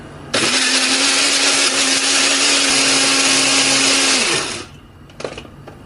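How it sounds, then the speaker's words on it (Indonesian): A Revel electric blender grinding spices with water roars loudly at full speed for about four seconds, then cuts off and spins down, followed by a brief clatter. "menghaluskannya menggunakan blender dari Revel"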